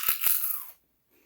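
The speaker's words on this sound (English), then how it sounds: "I'm going to do that again so you can hear that crunch." Turtle chips, a light airy snack, give two quick close crunches as they are bitten, then silence.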